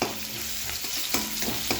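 Onion and garlic frying in hot oil in a kadhai wok for tomato chutney, a loud continuous sizzle close up, punctuated by a few sharp scraping stirs of a spoon, no voices.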